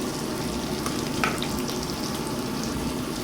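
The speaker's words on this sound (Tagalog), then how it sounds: "ilagay na natin ang bawang at sibuyas" Garlic and onion sauté in a pan with a steady close hiss and crackle, continuous and fairly even, with a couple of faint clinks and no talking.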